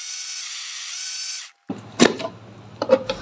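A kitchen blender grinds spices with added water in a steady high whir, then cuts off; afterward come close clunks and knocks as the jar is handled.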